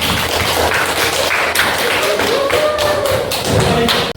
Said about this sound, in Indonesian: Tepuk tangan yang sebelah